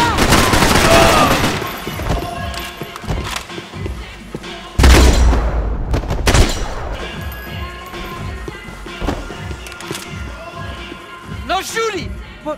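Bursts of gunfire and crashing impacts in Max Payne 3, loud at first then an abrupt heavy blast near five seconds, followed by scattered shots and thuds beneath shouting voices and game music.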